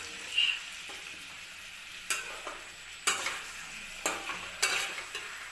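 Boiled potatoes fry in a pan for aloo dum and are stirred with a spoon. A soft sizzle runs underneath while a few sharp scraping strokes hit the pan at irregular intervals.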